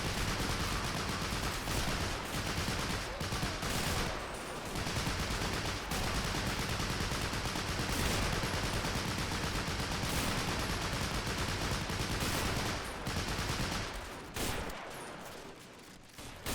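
A Vickers M1917 machine gun hammers away in the Men of War battle game, sustained rapid bursts of automatic fire layered with other gunshots across a dense, continuous wartime soundscape, broken by brief pauses.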